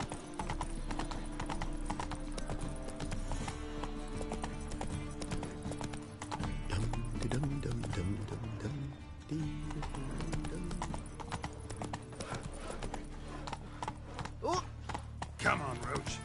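Roach the horse's hooves clip-clop in The Witcher 3 video game, a steady rhythmic trot continuing throughout alongside game music and a talking voice.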